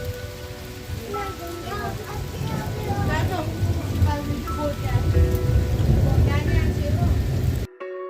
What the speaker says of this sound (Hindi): और फिर यहाँ पहुँचे और बारिश शुरू है।